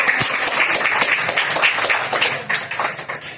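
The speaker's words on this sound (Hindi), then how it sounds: "एक बार जोरदार ताली बजाइए।" An audience in a classroom game-show quiz session bursts into loud, dense applause, many hands clapping continuously with sharper individual claps toward the end.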